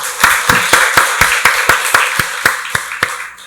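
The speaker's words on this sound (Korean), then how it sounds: "박수로 하나님께 영광 돌리겠습니다." A church congregation at a Korean Sunday worship service claps in unison, a steady, brisk rhythm of sharp claps about four per second that fades toward the end.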